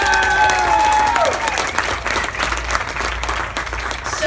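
Wedding guests applaud the couple during a maid of honor speech, producing loud, sustained clapping from a full room. A voice speaks briefly at the start before the applause takes over.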